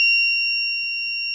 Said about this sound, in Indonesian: buzzer akan bunyi